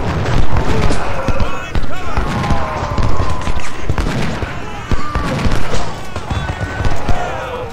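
Infantry musket volleys crackle in Ultimate General: Civil War at the Prairie Grove battle: dense, overlapping pops and thumps roll continuously at close range, with a few sharper cracks standing out from the din.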